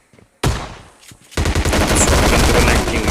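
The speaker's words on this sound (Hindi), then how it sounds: "शॉर्ट गन तो कनेक्ट नहीं हुई तो मैं बंदे को टॉमी से ही निपटा देता हूँ" A Tommy gun fires in PUBG Lite, opening with a few quiet shots, then a short burst, and after a brief pause a loud, sustained stream of rapid automatic fire.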